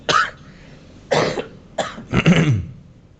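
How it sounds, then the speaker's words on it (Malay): Four harsh coughs close by, spaced unevenly, the last one longer and rougher, with quiet pauses between them. "tiba-tiba je batuk teruk"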